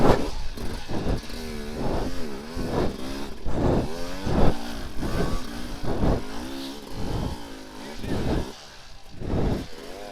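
A Sherco 300SE Factory dirt bike ridden over technical terrain, its two-stroke engine revving up and down in repeated loud bursts, close to the rider, with some voice sounds mixed in.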